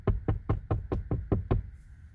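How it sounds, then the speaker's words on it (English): Eight firm, evenly spaced knocks on a door, close and loud, a steady rhythm of about four per second, then the knocking stops and the room goes quiet. "The highest ranking devil at 4 in the morning knocking at your door."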